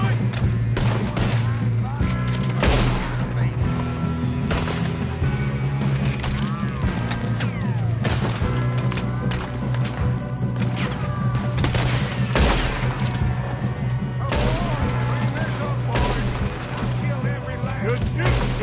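Repeated gunfire in the open-world western game Red Dead Redemption 2, sharp shots cracking irregularly throughout a busy firefight with steady game background sound and voices talking over it.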